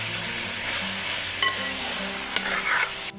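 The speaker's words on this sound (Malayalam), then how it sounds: "ഇനി നമുക്ക് ഈ വേവിച്ച് വെച്ചിരിക്കുന്ന ബീഫ് ചാറോടുകൂടി തന്നെ ഇതിലേക്ക് ഇട്ട് കൊടുക്കാം. നന്നായിട്ട് ഇളക്കി കൊടുക്കണം." Cooked beef in its gravy is stirred in a frying pan, a low bubbling simmer broken by a few distinct scrapes and knocks of the spoon against the pan.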